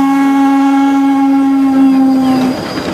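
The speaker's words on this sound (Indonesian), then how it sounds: "Kereta uap." A loud, sustained whistle from a toy steam train blowing for a couple of seconds, then breaking into a hissy chuffing rattle.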